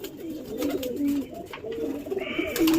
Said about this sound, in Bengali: পুচকে পুচকে পায়রা দেখুন, ছোট্ট,